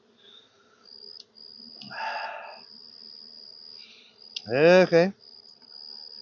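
Honeybees buzzing at a hive while a beekeeper works it during pollen harvesting, a steady faint hum under close talk from a person nearby.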